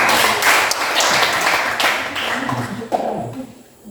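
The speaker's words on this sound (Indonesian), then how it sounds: "Oke, tepuk tangan." Students in a classroom clap together at the end of a chemistry lesson on acids and bases, a dense burst of applause lasting about three seconds before fading into quieter room sound.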